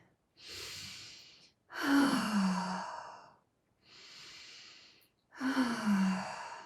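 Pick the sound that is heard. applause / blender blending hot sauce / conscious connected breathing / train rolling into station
conscious connected breathing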